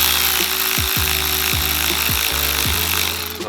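Close, crisp ratcheting clicks come in several short bursts as an 8mm tool tightens a hose clamp on a Supra's intake tube, with a faint background hum behind it.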